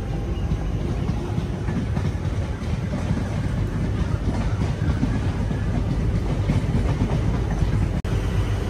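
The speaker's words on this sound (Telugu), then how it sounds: "ఇంకొక లోకల్ ట్రైన్ దూసుకెళ్ళిపోతుంది లోపలికి." A Chennai local suburban train races past nearby, making a loud, steady rumbling roar with faint rhythmic clatter over nearly nine seconds, heard from aboard a long-distance express.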